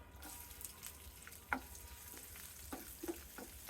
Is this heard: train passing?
no